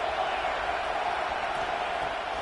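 Stadium crowd at a football game, a dense, steady roar of many voices filling the space, loud and continuous with no single voice standing out.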